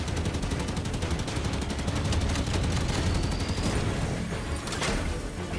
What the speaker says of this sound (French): je suis en pleine fusillade